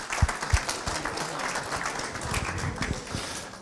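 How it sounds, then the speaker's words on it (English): Applause from an awards ceremony audience at a sports club's season-end picnic presentation, a brief burst of clapping with some crowd murmur. "Round of applause for Anthony."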